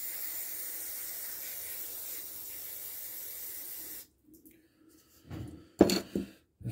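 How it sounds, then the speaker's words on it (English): Cleaner sprays into a dirty Briggs and Stratton carburetor bowl from a Craftsman tiller in a few short, sharp hissing bursts, following a steady background hiss that cuts off abruptly. "Spray. Wipe her out."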